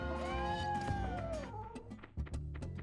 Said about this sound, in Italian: Vedete, quello è il gatto.